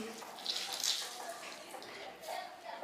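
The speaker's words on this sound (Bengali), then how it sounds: "খুব ভালোভাবে চিপে জলটাকে আমি ফেলে দিচ্ছি" Soaked bread slices are squeezed by hand so the water splashes and trickles out, heard close and fairly soft as a continuous watery patter.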